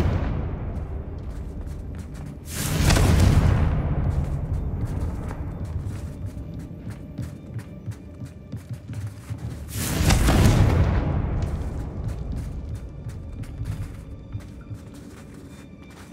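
A pair of Confringo spell explosions go off in the Hogwarts Legacy video game, several seconds apart. Each is a heavy, roaring blast with a long rumbling decay, set over a busy background of crackles and clicks.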